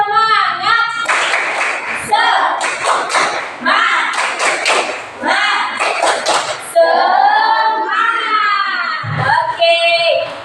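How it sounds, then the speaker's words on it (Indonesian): A class of fourth-grade pupils chants in unison while doing a rhythmic spirit clap, sharp patterned hand claps and thumps in bursts mixed with loud group voices and a teacher talking. "Tepuk semangat."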